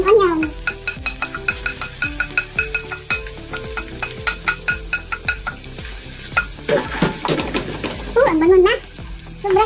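Onions frying in a hot pan for a creamy mushroom carbonara, with a steady sizzle and repeated rhythmic scrapes of a utensil stirring them, close and loud, with no talk.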